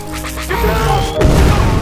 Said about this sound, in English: The explosion sends them tumbling down the cliff